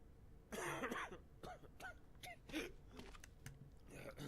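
Coughing and throat clearing from a character at an inspection checkpoint in the Quarantine Zone video game, several short harsh bursts heard quietly against a faint background.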